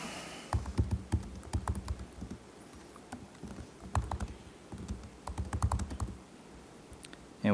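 Someone types on a computer keyboard with quick, irregular bursts of key clicks, close and moderately quiet, with no talking.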